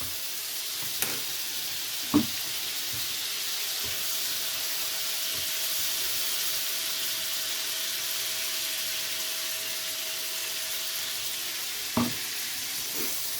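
Butter and olive oil fry on an electric griddle, giving a steady, close, broadband sizzle throughout, with a few sharp clicks and taps breaking through.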